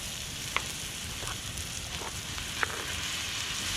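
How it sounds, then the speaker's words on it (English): Ribeye strips frying with onions and mushrooms in a cast-iron pan over a campfire in snowy backcountry, a steady close sizzle with a couple of sharp pops and crackles, no talking. "Added in some ribeye strips. Cook that up in with the onions and mushrooms."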